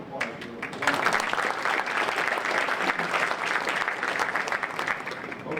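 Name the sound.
audience applause at an event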